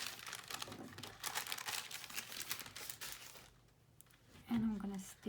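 Paper folded over by hand while making a floral paper purse wallet, with soft crinkling and creasing rustles close by, followed by a brief spoken remark.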